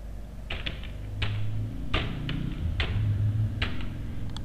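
Month names are typed into an Excel sheet on a computer keyboard: a string of close, crisp key clicks at an uneven, unhurried pace over a steady low hum.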